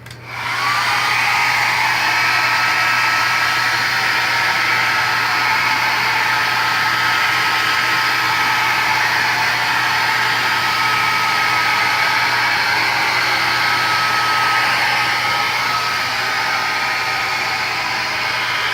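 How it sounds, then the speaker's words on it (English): A hair dryer blows steadily on a K&N air filter, a loud continuous rushing whoosh with a low motor hum that runs the whole time, with no talking. "we have our hair dryer here"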